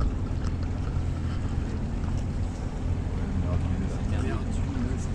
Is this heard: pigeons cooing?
no